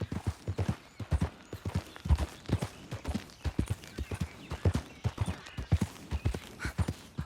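Horse hooves clip-clop steadily in Red Dead Redemption 2, a close, even rhythm of many footfalls continuing throughout, with an occasional faint snort and no talk over it.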